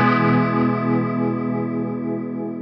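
Guitar chord held through a Hardwire TR-7 pedal set to a rotary Leslie effect at fast speed, the sustained tone swirling with a rapid, even pulsing wobble as it slowly fades, no voice over it.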